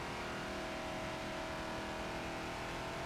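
Ford Falcon XB race car in the Forza video game at Road America, its engine holding a loud, dense, steady roar while accelerating down the front straight, with no talking.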